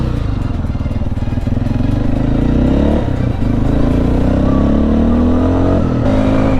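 A Levhart LV200 GY-3 off-road motorcycle engine revs hard and close, its pitch climbing and dipping with throttle, a rough buzzing drone throughout.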